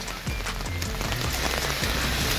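Steady rain falling during a holiday in Riccione, a dense continuous patter with a few low, faint voices or bumps underneath.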